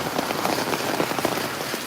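Steady, heavy rain patters densely on a terrace, a constant close hiss with scattered droplet taps and no voices.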